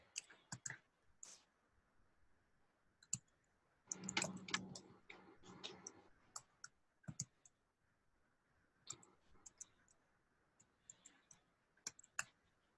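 Typing on a computer keyboard: quiet, irregular key clicks in scattered bursts, with a denser flurry of keystrokes midway, close and faint in an otherwise silent room.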